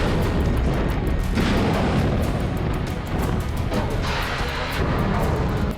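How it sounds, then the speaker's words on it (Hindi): Continuous heavy rumbling roar with dense booming bursts, loud and sustained, of naval missile and artillery fire at sea blending together. "समंदर में मिसाइल फायर की जा रही है।"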